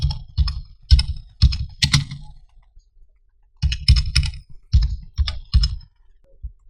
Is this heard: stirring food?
no